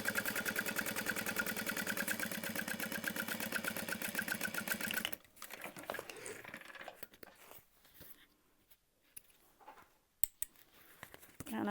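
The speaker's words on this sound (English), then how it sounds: "So I'm just gonna top stitch that just as it is." A sewing machine top stitches a piece of an Emma backpack, running at a rapid, even stitching rhythm for about five seconds before stopping, followed by quiet scattered handling noises and soft clicks.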